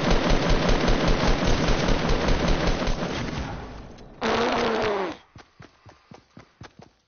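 Machine gun fire in a video game: a sustained fast burst of loud, dense shots for about four seconds, a brief different tone, then a few slower single shots.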